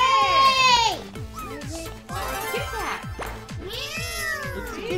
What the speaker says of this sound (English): Meow. It's a kitty cat.